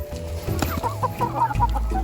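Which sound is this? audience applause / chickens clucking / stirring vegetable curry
chickens clucking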